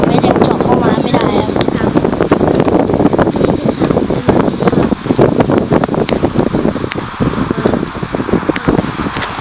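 An electric fan blows steadily into a microphone, a loud, continuous rushing wind noise with rough buffeting, under a voice talking over it the whole time.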